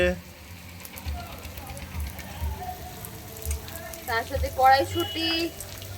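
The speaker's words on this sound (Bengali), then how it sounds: "রাইসের জন্য সবজিগুলো এবার ভেজে নেওয়া হচ্ছে গাজর রয়েছে ক্যাপসিকাম রয়েছে আর কি বিনস রয়েছে" Carrots, capsicum and beans sizzle in a pan for fried rice at a rooftop winter family picnic, a soft crackling hiss under a voice as he talks over the cooking, with occasional clinks of stirring.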